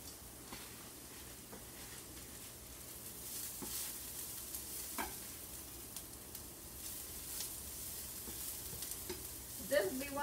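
Pepper and onion fry in a pan for a hamburger, giving a steady, fairly quiet sizzle with scattered clicks and scrapes of stirring throughout.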